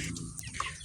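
Farm hens, three of them kept as breeders, give a brief, quick burst of clucking, fairly near and unaccompanied by any speech.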